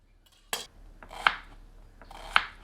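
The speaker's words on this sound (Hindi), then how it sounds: "सौ ग्राम प्याज को बारीक काट लेते हैं।" Knife chopping onion finely on a board: three crisp, close chops spaced about a second apart, with quiet scraping between them, no talk.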